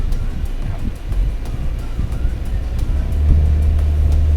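An All-New Toyota Veloz seven-seater, fully loaded, pulls away from a stop on a 12 to 13 degree slope, its engine giving a low, steady drone heard from inside the cabin that deepens and strengthens toward the end amid road rumble.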